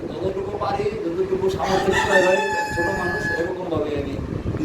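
A rooster crows loudly and close at a pigeon and chicken farm, a long drawn-out call over a busy backdrop of clucking fowl and talking voices.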